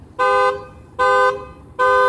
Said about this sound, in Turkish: Birazdan kornayla dörtlü devreye girer